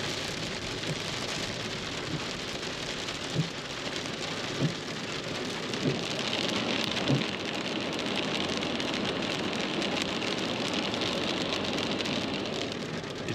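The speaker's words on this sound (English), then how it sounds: "I've got a big, super loud rain and hail combo and pretty windy." Heavy, windy storm of rain mixed with hail pounding down around a stopped car in cold weather, a loud continuous hiss with a few sharper thumps of impacts scattered through it.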